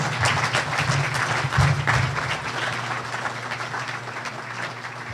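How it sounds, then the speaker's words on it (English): Audience applause for a speaker after a question session at a federalism event: a steady, moderately loud rush of many people clapping that holds without a break and eases slightly toward the end. "Nice big round of applause for Sean Filer"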